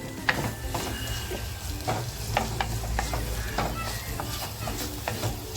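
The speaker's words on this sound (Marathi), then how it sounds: "कांदा आपल्याला छान असा परतवून घ्यायचा आहे हलकासा गोल्डन झाला पाहिजे" Onions sautéing in a pan until lightly golden while making a prawn masala, a steady close sizzle with repeated spatula scrapes and stirring taps, a voice faintly present underneath.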